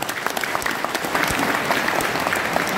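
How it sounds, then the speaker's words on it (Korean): A steady, dense wash of clapping from an audience at a Cheongju High School centennial history book launch and year-end evening, sustained and fairly loud throughout with no pauses. "아낌없는 격려의 큰 박수를 보내주시기 바랍니다"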